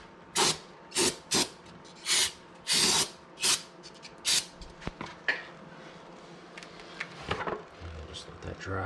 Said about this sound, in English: spray this with brake clean just to make sure that it is clean